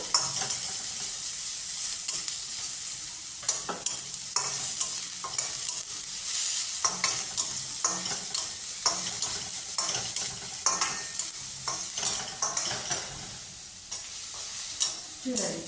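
Onions sautéing in a pan for a veg momo filling give a steady, close sizzle and fry hiss, with frequent scrapes and clinks of a spoon stirring against the pan throughout.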